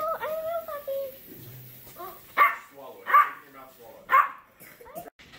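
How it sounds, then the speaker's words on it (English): A pet dog barks three times in sharp, evenly spaced bursts in a home during a morning routine, with a voice talking beforehand and a faint whimper between barks. "My dog's barking because he's ready for me to take him out on a walk."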